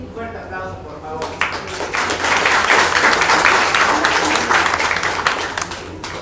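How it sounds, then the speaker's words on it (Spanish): An audience at a live oral storytelling event breaks into loud, sustained applause that swells after a brief quiet start and holds steady. "Un fuerte aplauso, por favor."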